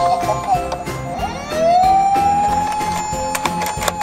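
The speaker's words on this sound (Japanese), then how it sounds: "サイレンの音が鳴ってピカピカ光るぞ。" A toy police car's electronic siren wails up and down in a steady rising and falling tone, close and fairly loud, with clicking and rattling from the toy underneath.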